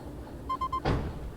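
A train car couples in the VR game Derail Valley: three short electronic beeps, then a single solid clunk as the cars join, with a soft rolling rumble underneath.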